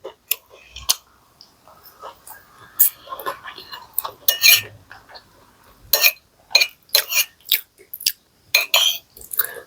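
Crunchy food mixed with rice and soy sauce is chewed close to the mic in sharp, irregular crunches, with quiet pauses between bites and occasional faint whispery sounds.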